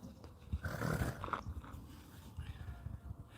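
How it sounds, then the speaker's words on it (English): A dog indoors in a studio, carrying a gopher in its mouth, gives low rumbling growls with snuffling and chewing noises, close but fairly quiet. "the Wonder Dog just came into the studio with a gopher in his mouth"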